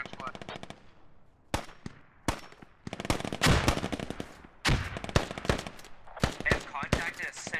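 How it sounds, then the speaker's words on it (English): Bursts of machine gun fire from an MRAP-mounted weapon in the military shooter Squad, laying down suppressing fire in repeated sharp volleys with brief gaps, loud and close, mixed with other distant gunfire. "Yep, MRAPs, don't be afraid to let any rounds fly."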